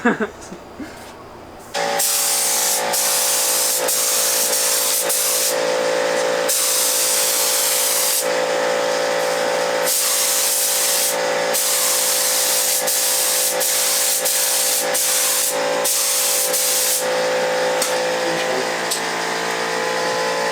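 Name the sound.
spray painting a coat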